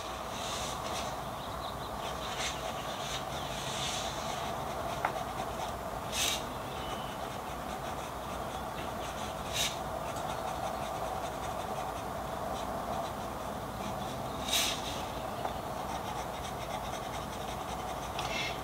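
A broad-nib Nahvalur fountain pen writes a quick sample, giving a faint, steady scratch of nib on paper with a few sharper taps between strokes and no talking.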